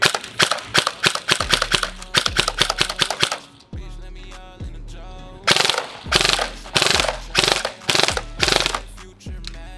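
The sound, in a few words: stock Samurai Edge Avalon airsoft gun firing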